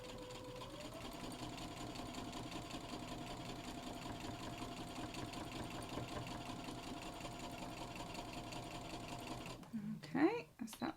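A sewing machine stitches a quilt block with a steady, continuous mechanical whir that holds evenly for about ten seconds before stopping, followed by a brief voice and handling noise.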